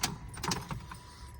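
Honda car keys jangle briefly while being handled during key programming, a few light metallic clinks and rattles close by, fading after a second.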